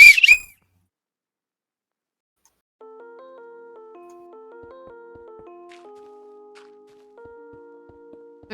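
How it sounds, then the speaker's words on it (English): A short whistled melody, tonal and steady, plays alone after a brief loud burst at the start, moving between several held pitches during a Minecraft stream. "I just heard a whistle."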